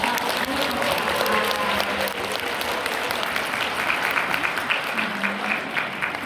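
Audience at a Joy Group self-leader training course applauds colleagues, steady dense clapping filling the room throughout, with some voices mixed in under it.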